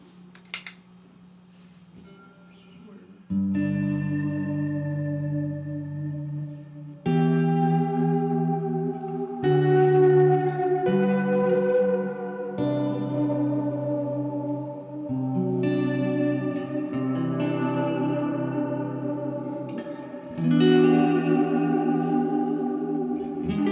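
Guitar played through an effects pedal in lo-fi mode, a string of sustained, heavily processed chords and bends with echo, chorus and distortion, each new chord entering abruptly and ringing on, with no talking.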